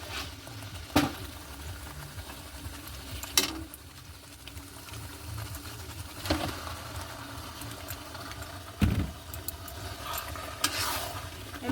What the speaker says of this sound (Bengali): এবার চিকেনটা দিয়ে দেবো।